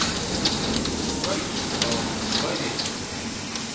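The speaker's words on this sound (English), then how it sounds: "Like, wow, the hail's bigger than peas. Listen to that." Pea-sized-plus hail pours down during a stormy, tornado-like downpour, a dense, constant hiss and clatter with sharper impacts scattered throughout and excited voices in between.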